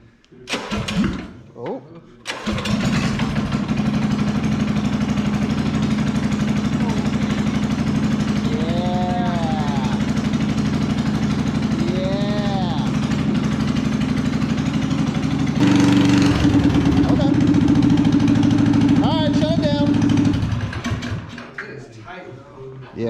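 A Coleman BT200x minibike fitted with a Predator 301 engine is pull-started and catches after a couple of seconds, then runs steadily and loudly close by, with a change in pitch near the end before it cuts off. People talk briefly over it.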